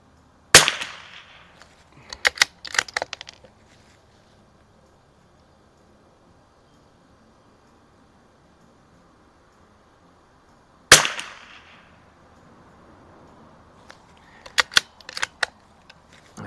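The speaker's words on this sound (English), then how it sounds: "Shoot these last three for a group." A Savage Mark II rifle on an outdoor target range fires two sharp, loud shots about ten seconds apart, each followed by a cluster of fainter mechanical clicks and rattles.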